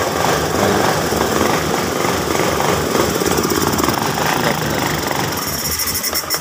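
Honda Beat FI fuel-injected scooter engine running loud and close, with uneven, stuttering revving and rough vibration throughout, a fault that makes it hesitate under throttle.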